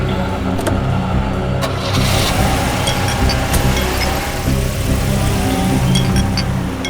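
A car driving through city streets toward Tilak Nagar, its engine humming loud and close with rising revs and passing road noise, no talk over it.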